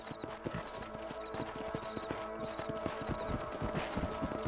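Horse hooves clip-clop in a steady, rapid rhythm during a ride in the Red Dead Redemption video game, close and continuous with faint background ambience.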